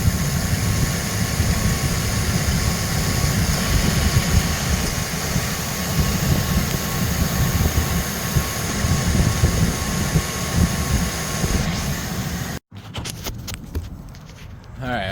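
A Chevy Express van's engine runs steadily at idle, a loud continuous mechanical hum and fan-like whir, briefly interrupted near the end before resuming.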